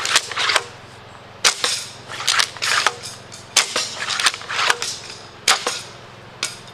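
A pump-action crossbow with a long draw is cocked and shot over and over, giving loud, sharp snaps and mechanical clacks at irregular intervals, close by, with no talking.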